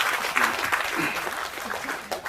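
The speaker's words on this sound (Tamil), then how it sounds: "அவருக்கு முதல்ல ஒரு நல்ல கைத்தட்டு கொடுக்கணும்னு நான் எப்பவுமே ஆசைப்படுவேன்" Audience applause at a Tamil film talk event, a steady patter of clapping hands lasting a couple of seconds, moderately loud with some voices mixed into the crowd noise.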